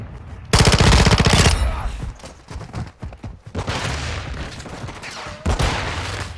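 Gunfire in Modern Warfare II, a loud, close burst of rapid automatic shots followed by scattered single shots and further bursts over game noise.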